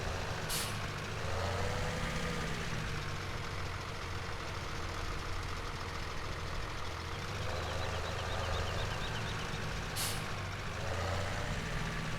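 A supply truck in Farming Simulator 17 runs a loud, steady diesel engine drone throughout, with two short, sharp hisses of air brake release, one near the start and one toward the end.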